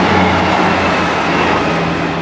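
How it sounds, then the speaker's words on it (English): Passenger train from Portsmouth Harbour to Cardiff Central rolling through Stapleton Road station, a dense, continuous rumble and rail roar close by. "passing through now is a service from Portsmouth Harbour to Cardiff Central"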